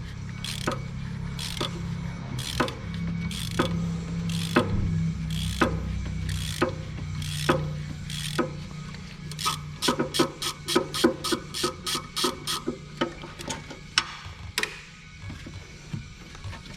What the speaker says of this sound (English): we're going to remove the 8mm bolt holding this bracket together